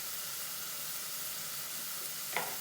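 Cauliflower and potatoes hit hot oil in a pan, giving a steady soft sizzle with a brief sharper crackle and hiss near the end as they land.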